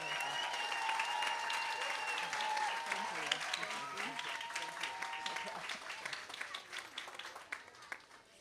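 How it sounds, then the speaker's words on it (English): Applause rises for Miss Mercury at a kindergarten stepping-up ceremony, a crowd of hands clapping steadily and thinning toward the end, heard from some distance with faint voices and music tones mixed in. "So let's give Miss Mercury a round of applause."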